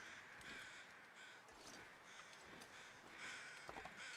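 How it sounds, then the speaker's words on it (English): Crows caw in The Long Dark's wilderness, several harsh calls spaced irregularly through the stretch, fairly faint and distant over a quiet background with no talk. "I hear these birds."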